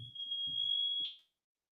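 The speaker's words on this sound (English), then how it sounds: "apparently smoke alarms are going off in my house" A smoke alarm in a house gives one steady, piercing high beep for about a second, heard indoors over low room rumble and a few soft knocks, then the sound cuts off.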